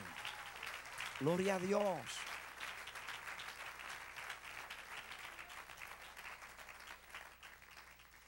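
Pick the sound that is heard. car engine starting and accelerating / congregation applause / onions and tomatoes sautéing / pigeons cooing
congregation applause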